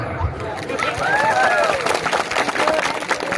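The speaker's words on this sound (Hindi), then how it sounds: "अब आप लोग ताली मारो।" A gathered crowd claps in a steady, dense patter while voices chatter and call out over it.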